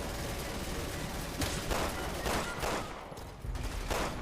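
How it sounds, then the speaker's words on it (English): Rapid bursts of gunfire aimed at the player in the Resident Evil 6 Chris campaign, a steady dense battle backdrop with several sharper volleys, and someone speaking briefly over it. "What's shooting me?"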